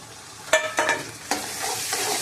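Onion, ginger, garlic and tomato sautéing in a home kitchen pan for sambar, with curry leaves added: a steady close sizzle broken by a few sharp stirring scrapes of a spoon against the pan.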